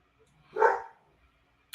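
A single short dog bark, moderately close but fairly quiet, stands alone against near silence.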